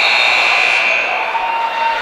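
A loud, sustained basketball shot clock buzzer blares continuously over the murmur of an arena crowd during a men's college game.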